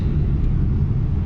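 Honda Civic with an H22A VTEC engine heard from inside the car while driving, a loud, steady low engine drone and road rumble filling the cabin, with no pauses.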